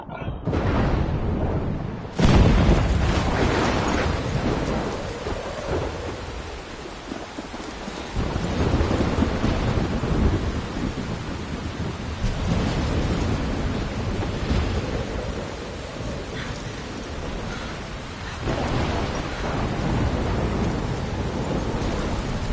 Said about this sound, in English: Thor is bringing that thunder.